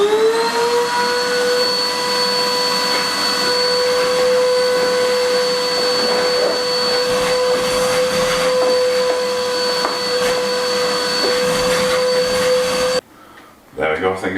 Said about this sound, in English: get old Henry out and give it a good vacuum